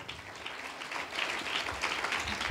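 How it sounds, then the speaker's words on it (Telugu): A church congregation at a Good Friday service breaks into applause, a moderate, steady wash of clapping that swells slightly toward the end, with no talking over it. "అందరం గట్టిగా దేవుని సాక్రిఫైస్కి లవ్ చప్పట్లు కొడదామండి"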